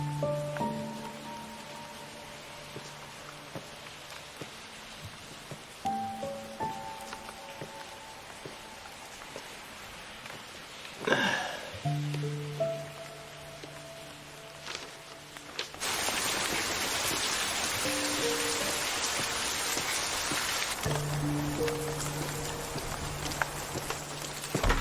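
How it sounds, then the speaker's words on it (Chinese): Rain keeps falling outside, a steady hiss that swells much louder in the middle of the stretch, with music sounding over it and brief scattered knocks. "外面一直在下雨"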